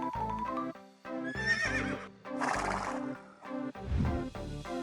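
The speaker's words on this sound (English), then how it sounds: "Horse, welcome." A horse neighs and whinnies repeatedly, several loud, close calls with short gaps between them.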